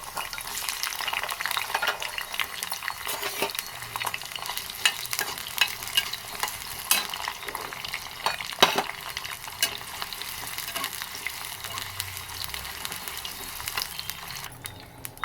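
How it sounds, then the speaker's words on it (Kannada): Capsicum fries in oil in a pan, a soft continuous sizzle with frequent stirring scrapes and light utensil clicks against the metal, close by and without talk. "ಈಗ ಎಣ್ಣೆಗೆ ಕ್ಯಾಪ್ಸಿಕಮ್ನ ಹಾಕಿ ಕರೆದು ಇಟ್ಕೊತೀನಿ"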